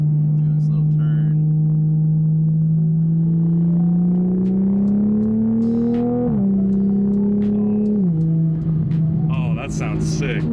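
A Toyota A90 Supra with an RK Titanium 4-inch single exhaust accelerates in fourth gear around 3000 rpm, a deep steady drone rising in pitch, dipping at a shift, then settling, heard from inside the car.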